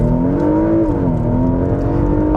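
A Porsche Macan Turbo's 440 hp engine in sport mode hums deep and loud at a low, throaty pitch, with a slight dip and rise in tone, close to the microphone.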